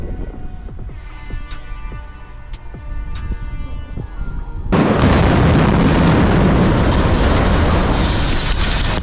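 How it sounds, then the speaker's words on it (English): Steady low rumble, then a sudden massive demolition blast at about the midpoint as the Liedbachtal bridge in Unna, Germany collapses, turning into a loud, sustained roar of broadband noise and crashing debris. "The powerful explosions caused the entire structure to collapse in just seconds"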